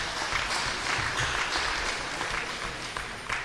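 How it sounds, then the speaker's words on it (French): An audience at a political gathering claps steadily in a continuous, fairly even round of applause heard from within the room, without speech. "je demande à ce que nous les applaudissions"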